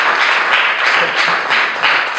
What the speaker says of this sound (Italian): facciamo un applauso al regista e